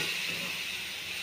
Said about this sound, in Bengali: আলাদা করে জল দিয়ে দেবো।